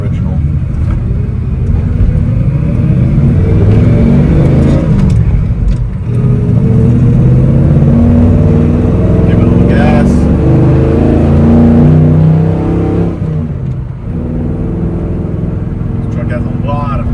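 Pickup truck with aftermarket headers, straight pipes and chrome-tipped exhaust, driving with a steady loud engine drone and rising revs, with a voice talking over it throughout.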